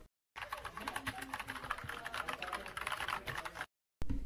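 Rapid clicky keystrokes on a DIERYA DK61E mechanical keyboard with brown optical switches patter continuously and close up, a dense run of typing that stops abruptly.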